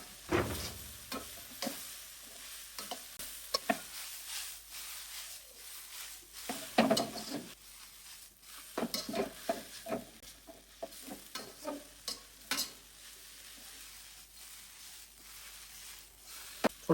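Vegetables for restaurant-style chow mein are stir-fried in a wok, with a steady nearby sizzle and repeated scraping and tossing sounds.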